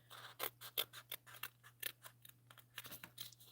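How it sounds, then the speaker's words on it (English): Scissors snip off extra paper in a stamping class, a quick run of a dozen or so crisp, close cuts in an uneven rhythm, quiet and with no voices over a low steady hum. "I am just going to cut that off. So I'm just going to snip in here."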